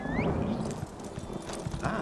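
Horse hooves clip-clopping in The Elder Scrolls Online, a steady rhythmic trot with a brief whinny-like call near the start, mid-loud under ambient game sound with no talking.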